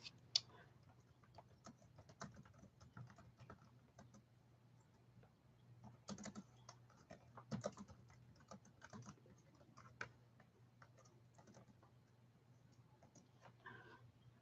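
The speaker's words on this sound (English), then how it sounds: "let me just type in here" Soft, quick keystrokes on a computer keyboard tap along steadily with brief louder clusters, quiet and close over a faint steady hum, with no talking.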